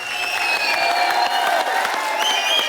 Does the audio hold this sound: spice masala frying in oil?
no